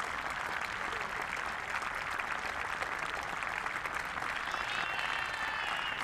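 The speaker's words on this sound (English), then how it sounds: "Good applause around the ground" Sustained crowd applause rings around a cricket ground during a European Division 1 championship final, a steady broad wash of clapping that holds evenly throughout without pause.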